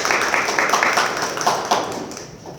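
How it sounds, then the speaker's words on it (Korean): An audience at a civic forum in Incheon welcomes a panelist with applause, a few seconds of fairly close, slightly uneven clapping from a modest crowd that thins out toward the end. "큰 박수로 환영해 주시기 바랍니다."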